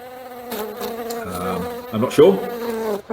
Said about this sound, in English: And this is the sound of the hive to go with a honey-flavoured sweet.